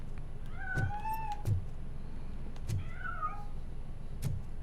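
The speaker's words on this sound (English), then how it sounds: "That cat must be hiding inside." A cat meows in the video game Robocop Rogue City, giving two clear meows with a few soft thuds and faint game ambience between them.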